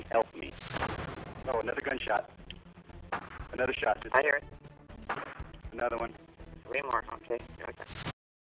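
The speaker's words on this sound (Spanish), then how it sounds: "Incluso durante las llamadas se podían escuchar las detonaciones." Several sharp gunshot bangs ring out over an emergency call phone-line recording, scattered among stretches of talking voices.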